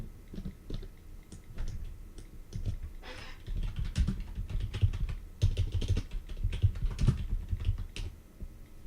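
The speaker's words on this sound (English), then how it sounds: "Just typing." Steady typing on a computer keyboard, with quick, uneven bursts of clicky keystrokes and brief pauses, close and fairly quiet, with no voices.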